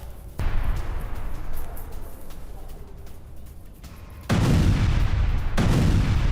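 Heavy, loud rumbling blasts from an Israeli bombardment near a Hezbollah weapons depot in south Lebanon, with a sustained roar and a sudden stronger burst of explosive noise partway through.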